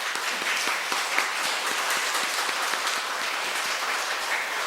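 Congregation applause fills a church during a Sunday mass, steady and dense with many hands clapping together at an even level throughout, with no voices standing out.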